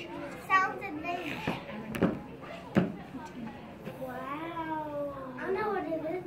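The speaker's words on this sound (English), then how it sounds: "It's a cat." Cat meows rise and fall in a classroom letter-sounds lesson, mixed with children's voices and a few sharp clicks, moderately faint.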